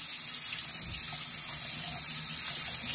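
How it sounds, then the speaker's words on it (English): Tap water runs hard to rinse a piece of treated carpet, a steady, close, bright rushing hiss of flowing water that lasts the whole three seconds with no voices. "We will go ahead and rinse this carpet out. So I got the water on this one, treated carpet."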